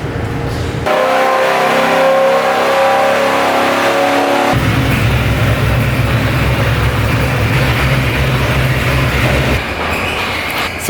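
A modified car with a Procharger setup and a big cam revving at a tuning shop, a loud rough engine note that builds and holds, then shifts into a heavier sustained roar for the rest.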